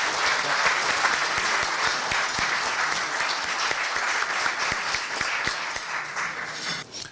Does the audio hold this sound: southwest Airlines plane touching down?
no